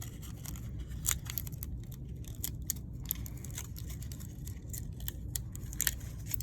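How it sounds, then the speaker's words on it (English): Tape is pulled and torn while a paper craft flower is assembled, making quiet, close crinkly rips and sticky snaps scattered irregularly over a soft room hush. "I'm going to tape where these two pieces meet"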